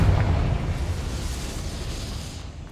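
Confringo spell blast in Hogwarts Legacy, a fading low rumbling boom already in its decay, steady and fairly loud, tapering off over a few seconds.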